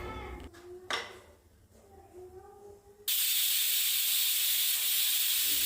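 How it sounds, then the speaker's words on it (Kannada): A pressure cooker on a kitchen stove, cooking pigeon pea sambar, suddenly releases a loud, steady hiss of steam that runs on unbroken. Quieter kitchen sounds and a few faint tones come before it. "ಕುಕ್ಕರ್ ಮುಚ್ಚಳ ಮುಚ್ಚಿ 3 ವಿಷಲ್ನ ಕೂಗಿಸ್ಕೊಳ್ಳಿ."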